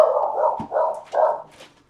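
A dog barks indoors at a distance, three or four steady barks in quick succession, moderately loud and then trailing off.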